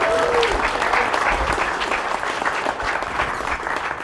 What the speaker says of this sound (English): Give another round of applause there